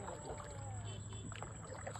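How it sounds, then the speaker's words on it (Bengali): Oars working a wooden village boat through water, a steady low splashing and swishing with a continuous water wash, fairly close and moderately loud, with no voices. "নৌকা চালানো ঠিক আছে।"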